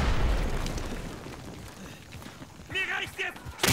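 A smoke grenade goes off in the World War II shooter Day of Infamy, a loud muffled burst at the start that fades into a hissing, rumbling tail, with a voice talking briefly near the end.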